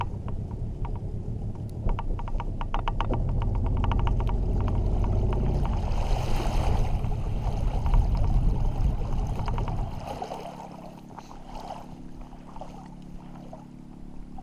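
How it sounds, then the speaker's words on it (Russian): A Suzuki 9.9 or 15 hp outboard motor drives a boat along a river, a steady loud engine drone with water noise for about ten seconds before the level drops to a quieter running hum. "сейчас я мотор заведу, и мы туда подойдем."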